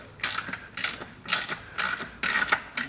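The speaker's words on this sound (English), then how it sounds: "Other than me being able to hold a ratchet" Ratchet wrench clicking in repeated bursts during a car clutch job, five distinct ratcheting strokes with short gaps, close and clear with no voices.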